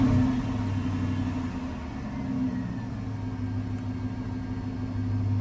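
A 2006 Dodge Charger engine idles steadily after being started, a low, even rumble with a faint hum, heard close up inside the car, unchanging and with no talk over it.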